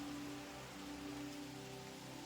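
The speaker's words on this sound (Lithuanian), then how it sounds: "pradėjo stipriai lyti" Heavy rain pours steadily outdoors beside a trout river during a September fly-fishing trip, a dense, unbroken hiss of drops striking surfaces close by, with no voices.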